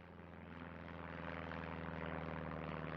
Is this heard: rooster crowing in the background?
no